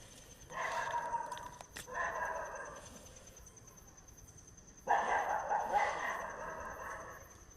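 Dogs barking in a forest, two separate bursts of repeated barks a short way off, with a quieter gap between them and a faint steady tone running through the background.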